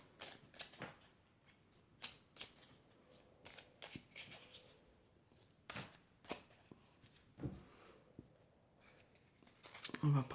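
Playing cards from an oracle deck being cut and drawn: a run of soft, papery slaps and brushing flicks at irregular intervals, close and fairly quiet, with faint room noise between them.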